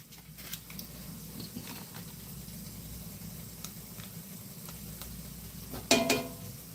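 Butter sizzling in a frying pan with corn, a steady soft crackle and hiss with a few stirring scrapes and a brief clatter near the end.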